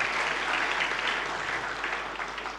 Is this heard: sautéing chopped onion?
no